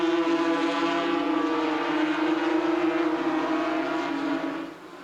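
350cc Yamaha racing motorcycles roaring past at Brands Hatch, a loud sustained high-pitched engine whine that swells and then fades away as the bikes pull off into the distance.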